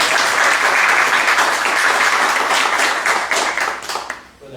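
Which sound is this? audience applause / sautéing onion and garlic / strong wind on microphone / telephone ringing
audience applause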